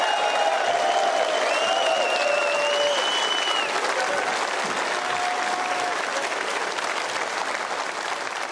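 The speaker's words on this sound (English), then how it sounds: "may we have another round of applause for 2 of our sport's all-time" An arena crowd gives sustained, loud applause for snooker players Ronnie O'Sullivan and Mark Williams at the 2024 Tour Championship, with steady clapping throughout and an announcer's voice faintly audible over it.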